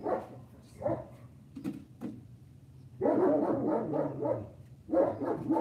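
Large German Shepherd dogs bark nearby, a few single woofs at first, then a burst of loud repeated barking, pausing and resuming.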